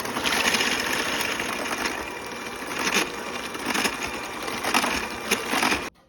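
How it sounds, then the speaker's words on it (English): Wet muffin ingredients with vanilla extract being whisked in a bowl for blueberry muffins, a steady scraping and sloshing that keeps going for several seconds and then stops abruptly. "now we will just give all these a mix"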